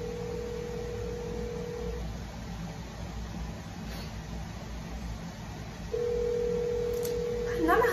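Telephone tones during a prank phone call, two long steady ringback beeps separated by a pause over a noisy background, with a voice speaking briefly.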